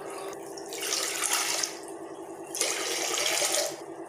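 Tap water runs into a tumbler in a village kitchen while millet is readied, a steady splashing stream with a few surges as the flow shifts, close and alone.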